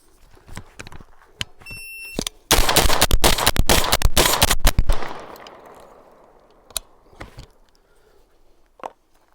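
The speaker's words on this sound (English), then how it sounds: "So how fast can I put 10 rounds into that piece of cardboard right there" Genesis Arms Gen-12 SBS shotgun firing ten rounds in rapid succession at a cardboard target, a loud burst of closely spaced blasts lasting about three seconds, followed by a fading echo and scattered faint clatter.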